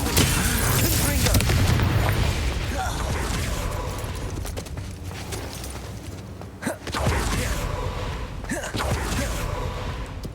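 A Confringo spell in Hogwarts Legacy sets off loud explosive blasts amid combat, with booming bursts, a dense rumbling wash and a sharp crack near the middle followed by renewed roaring impact noise.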